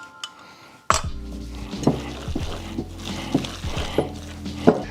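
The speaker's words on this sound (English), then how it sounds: "we're gonna go ahead and give it one more mix" A utensil stirs a turkey lasagna mixture seasoned with oregano and parsley, with a sharp clank against the pot followed by a steady series of scraping, clinking strokes close up, no talk.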